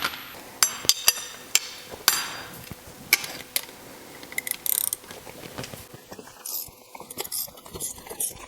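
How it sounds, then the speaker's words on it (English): Tools working the strut nut on a Porsche Boxster suspension, a run of sharp metallic clanks and ratchet clicks near the mic, then quieter fiddling and scraping. "So my spring's loose, so now I can undo the nut."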